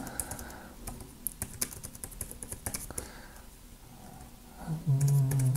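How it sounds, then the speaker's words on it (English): Quick, irregular clicks of typing on an Inateck KB01101 compact wireless Bluetooth keyboard with touchpad, close up, the keys tapping in bursts before a low noise near the end. "I just go down here and type a little bit of text in here."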